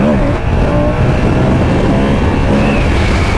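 A Moto Guzzi V100 motorcycle engine roars continuously and loudly at close range, revving hard under acceleration with a dense, rumbling exhaust note that holds throughout.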